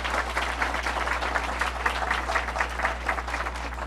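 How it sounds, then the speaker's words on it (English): Dense, continuous applause from an audience at a children's hospital announcement, steady and moderately loud over a constant low hum, with no talk. "Let's give them a round of applause."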